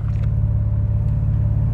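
The engine of a 1998 BMW Z3 rumbles steadily at a low, even pitch, with a constant pulsing drone and no talking over it.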